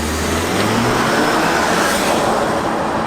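Audi A4 2.0L turbo in sport/dynamic mode launched at full throttle, a loud, steady engine roar with rising pitch heard from inside the car, no voices over it.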